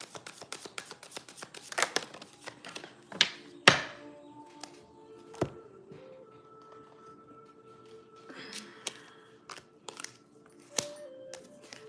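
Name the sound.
shuffling tarot cards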